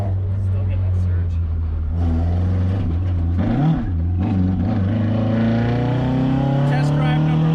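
A car engine on a test drive, its steady drone rising in pitch as it surges and climbs, heard from inside the cabin with people talking over it.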